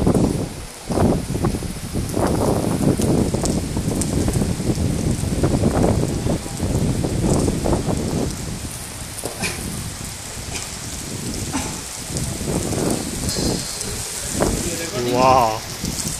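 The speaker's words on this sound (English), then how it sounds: "It's getting heavy. The rain is in." Heavy rain pours down steadily outdoors at KAUST, a dense, loud hiss of drops with gusty surges throughout and occasional louder patters near the end.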